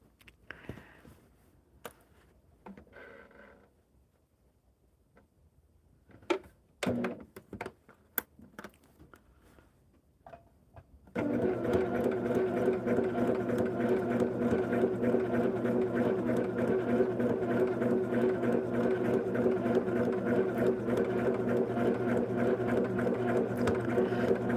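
A sewing machine stitches long quilt fabric strips for a twisted log cabin block, starting after scattered handling clicks and running as a steady, continuous mechanical whir that stays loud and unbroken to the end.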